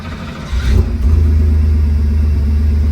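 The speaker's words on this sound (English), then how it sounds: "guys, let's fire it up." A 1981 Porsche 911SC coupe engine cranks and catches, then settles into a loud, steady, throaty run close by, with no talking.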